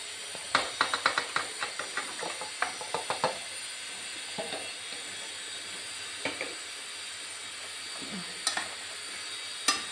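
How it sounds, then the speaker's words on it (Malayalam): Chicken pieces going into sizzling masala in a pan for chicken curry, a quick run of clattering knocks and scrapes early on, then a steady hiss with occasional stirring clinks. "ഇനി ഇതിലേക്ക് ഈ ചിക്കൻ ഇതെല്ലാം ആഡ് ചെയ്യാണ്"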